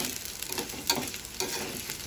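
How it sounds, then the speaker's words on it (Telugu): Green chillies and onions sizzle and crackle in hot oil in a pan for egg curry, a steady close frying hiss with occasional stirring scrapes and small pops. "పచ్చిమిర్చి ఫ్రై అయిన తర్వాత ఆనియన్స్ వేసేసుకుందాం"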